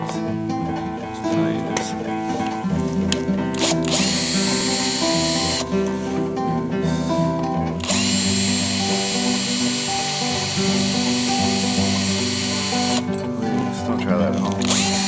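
Power drill whirs in repeated loud bursts while backing out the original screws from bus engine bay lights, interleaved with ongoing speech and faint clatter.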